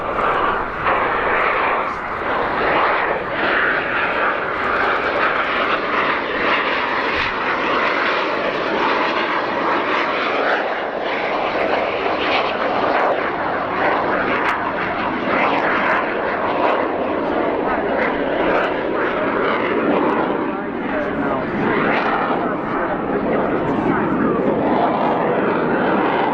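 An Aermacchi MB-339 of the Frecce Tricolori flies its Crazy Flight solo at RIAT 2018, a sustained jet roar that rises and falls as the aircraft manoeuvres, with a public address announcer talking over it.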